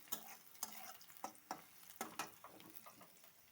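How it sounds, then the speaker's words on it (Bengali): Onions fry quietly in a pan for a banana-flower dish, with soft sizzling under a series of sharp clicks and taps from stirring with a utensil, all faint. "আর এখানটায় যে মোচা করব তার জন্য ভাজছি পেঁয়াজ"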